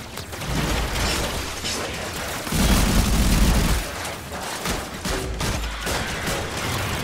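Warframe gunfire, rapid bursts of shots with mechanical clatter going on through the whole stretch, with a heavier rumbling blast in the middle, loud and close.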